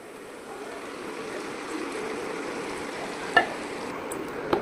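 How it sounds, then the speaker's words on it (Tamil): Ground tomato in a frying pan for thokku gives a steady, moderate sizzle, with a faint clink of utensils near the end. "அதுக்கு முன்னாடி நம்ம வந்து அரைச்சி வச்சிருந்த தக்காளி எடுத்து இதில் ஊற்றிப்போம்"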